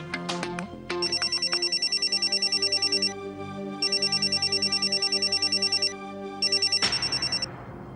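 A telephone rings in repeated electronic bursts, three long trills separated by short pauses, loud and close, with a sharp knock near the end.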